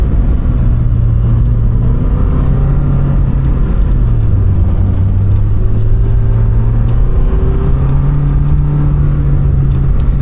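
A Lamborghini Temerario's engine drones loud and close at low RPM while driving on ice, a steady, tame, humming note with slight pitch shifts under constant road rumble.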